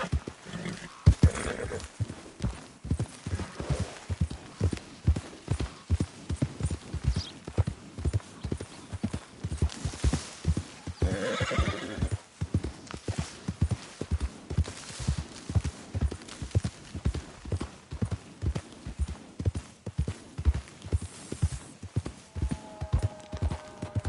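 A horse in Red Dead Redemption 2 trots along with steady, rhythmic clip-clop hoofbeats, near and fairly quiet, continuing throughout with a few brief louder knocks.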